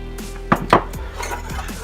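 Cream sauce being stirred in a pan with heavy cream added, giving a few sharp utensil-on-pan knocks and scrapes over a low steady hum, followed by softer clinks.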